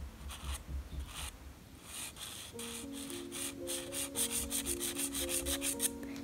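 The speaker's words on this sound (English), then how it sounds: "with this you want to go incredibly lightly. You're just literally caressing the paper." A Conté sketching pencil drawn very lightly across paper, giving soft, repeated scratchy rubbing strokes close up, with quiet sustained tonal notes coming in underneath partway through.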